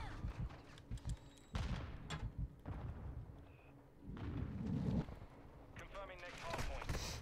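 An RPK loaded with incendiary rounds fires in Modern Warfare 2, with loud bursts of gunfire and heavy thuds coming in clusters, and a player's voice talking over parts of the action.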